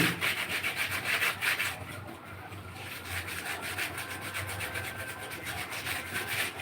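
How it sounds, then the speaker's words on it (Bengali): A cloth rubbed briskly back and forth over stainless steel, giving a steady run of rapid, close scrubbing strokes with a brief pause partway through; no talk. "এই যে কাপড়টা দিয়ে আমরা ডলা দেবো"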